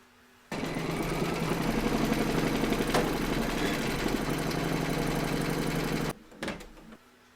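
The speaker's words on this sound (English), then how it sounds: "We're now going to pop our hoop into our machine and stitch round number 4" An embroidery machine stitches a pocket onto a glasses case in the hoop, a steady rapid mechanical whirring hum that starts abruptly, runs for several seconds, then stops with a brief after-clatter.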